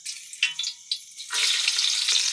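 Garlic goes into a hot frying pan during a night party cook-up, a few light clinks and scrapes giving way to a sudden loud, sustained sizzle.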